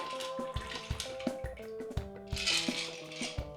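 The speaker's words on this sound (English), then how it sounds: "Pour that bad boy into our glassware." A cocktail is strained from a shaker into glassware, with bright metallic clinks and ice rattles, then a brief splashing pour near the end, all close and without talk.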